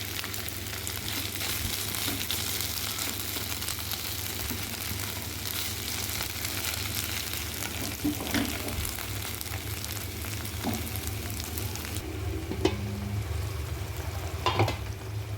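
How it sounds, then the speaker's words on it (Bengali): Chicken curry cooking in a pan over low heat, giving a steady close sizzle of frying with intermittent scrapes and knocks as it is stirred, continuing without talk. "মুরগির মাংসটা আবার একটু নেড়ে দিব। কম আঁচে আমি একটু সময় নিয়ে মাংসটা কষাই"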